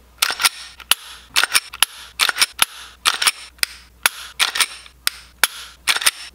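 Metal clicks and snaps of a Glock G43X pistol being reassembled, its slide fitted back onto the frame, with sharp close clacks in quick clusters and brief pauses between.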